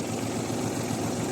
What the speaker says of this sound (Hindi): ट्रैक्टर तेज चल रहा है, मिट्टी अच्छी चढ़ा रहा है।